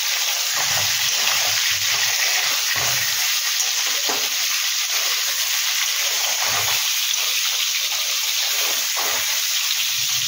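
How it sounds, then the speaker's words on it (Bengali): Potatoes lightly frying in hot oil, a steady bright sizzle throughout with occasional soft stirring thumps, close and continuous, no talking. "বেশি ভাজবো না, অল্প একটু গায়ে রং লাগবে সেই রকম মতন একটু ভেজে নেব।"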